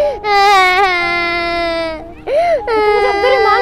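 A young child cries loudly and close by in long, wavering wails, breaking off briefly in the middle before a second strained, sobbing burst.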